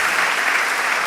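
Polite golf-style applause from an audience, a steady dense patter of clapping hands filling the whole moment with no voices over it.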